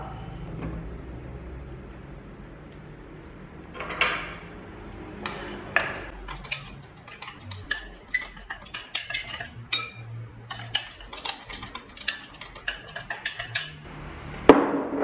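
A large mixing bowl is set out and handled in a home kitchen while making a tapioca-flour layer cake, giving scattered close clinks, taps and knocks against a quiet background, with no one speaking.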